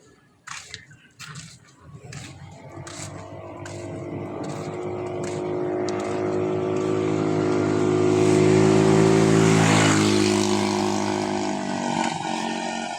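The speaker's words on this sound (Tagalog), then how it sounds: "Yun palang dumaan mga ka-idol ay motor." A motorcycle passes on a rural path among trees, its engine hum building from faint to loud around the middle and then fading away, with no talk over it.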